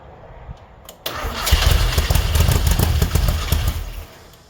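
A 1969 Volkswagen Baja Bug hot rod engine cranks briefly, then catches and revs loudly at close range, running rough and uneven for a few seconds before dropping back.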